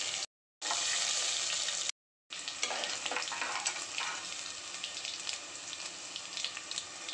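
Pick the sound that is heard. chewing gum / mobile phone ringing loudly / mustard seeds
mustard seeds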